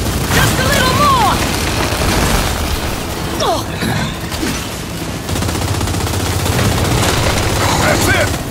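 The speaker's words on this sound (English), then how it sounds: "Keep firing at it!" Gunfire in the Gears 5 Hivebusters battle, heavy continuous automatic fire with booms and mechanical clatter, close and loud, under shouted voices.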